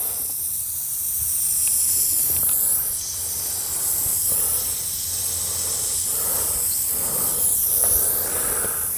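A garden sprinkler sprays water across a dry lawn, giving a steady close hiss with faint recurring pulses and no voices.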